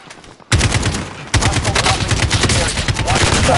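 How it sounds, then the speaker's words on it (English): AK rifle fire in Call of Duty multiplayer during a Halloween event: loud, close rapid automatic bursts that start abruptly and roll on almost continuously, with a short break before a second sustained burst. "The AK is such an underrated gun."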